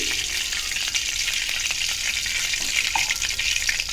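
Oil heating in a kadai for a spicy egg fry sizzles with a dense, continuous hiss and small crackles, close by and fairly loud, with the occasional clink of stirring.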